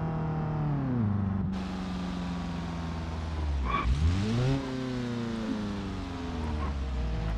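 Cars drive a snowy mountain road with tunnels in the BeamNG driving game, engines droning and revving with rising and falling pitch as they shift and pass close by, alone with no talk.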